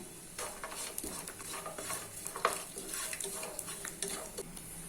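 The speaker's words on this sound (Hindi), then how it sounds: "अभी सेम पैन में ड्राई कोकोनट ऐड कर लेना है और इसको भी गोल्डन ब्राउन होने तक फ्राई कर लेना है" Dry coconut frying in a pan over medium flame, a soft sizzle broken by stirring scrapes and light clinks of utensil on metal, fairly quiet and close.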